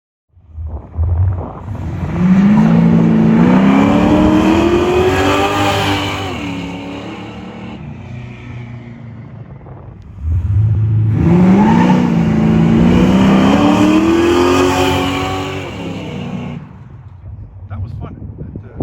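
A 1979 Camaro Z/28 on sticky tires makes two loud accelerating runs, the engine note rising in pitch each time and then easing off, with a close rumbling roar.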